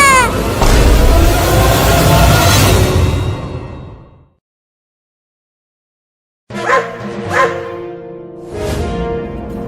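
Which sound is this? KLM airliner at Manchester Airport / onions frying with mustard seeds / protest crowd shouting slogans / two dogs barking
two dogs barking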